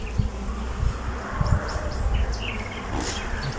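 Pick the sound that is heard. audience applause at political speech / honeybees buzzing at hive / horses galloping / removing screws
honeybees buzzing at hive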